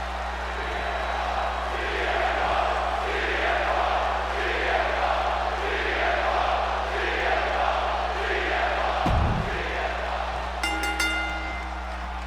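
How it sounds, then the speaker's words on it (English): A virtual arena crowd in the WWE 2K25 video game cheers for Jey Uso, a sustained roar with rhythmic swelling chants pulsing steadily, a brief thump near the end and a short electronic chime at the close. "The crowd is on their feet for Jey Uso."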